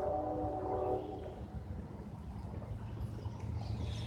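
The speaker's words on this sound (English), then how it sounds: "isn't the train coming this way? But it sure did sound like it was awfully close" A train rumbles along an old rail line stamped Lackawanna 1941, a low rolling drone with a brief higher tonal blare at the start. The sound stays fairly distant and steady and no one talks.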